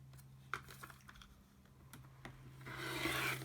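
Quilt fabric being cut on a cutting table for quarter square triangles, heard as scattered soft clicks and scrapes that swell into a louder sustained rasp of the cut near the end, close up with a steady low hum underneath.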